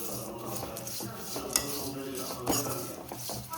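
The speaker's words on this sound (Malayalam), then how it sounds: "അപ്പോഴിതാ അവിൽ നെയ്യുമായിട്ട് മിക്സ് ചെയ്യാണ്" Flattened rice (poha) is stirred with ghee in a pan, with a spoon scraping and clinking against the metal over a soft sizzle and a couple of sharper taps.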